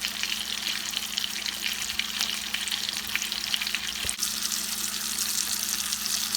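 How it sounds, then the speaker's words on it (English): Steady, dense sizzling of T-bone steak frying in a hot pan, continuous crackle and hiss throughout with no voices. "steak is cooking, sizzling, look delicious."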